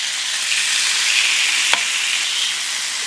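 Giant butterflied shrimp sizzling on a grill: a loud, even hiss that holds constant across the clip, with one brief sharp tick near the middle.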